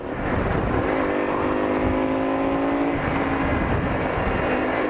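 A motorcycle ridden with the rider standing on the pegs gives a steady, loud engine drone with a constant pitch and a rush of wind that runs through the whole ride.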